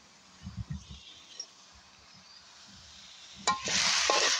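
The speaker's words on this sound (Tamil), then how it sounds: "எல்லாத்தையும் சேர்த்து தான் நாங்கள் வதக்க போகிறோம்." Onion, green chili and garlic going into a pan for a spicy prawn devilled dish: a few soft knocks, a quiet stretch, then a sudden loud sizzle that swells and holds to the end.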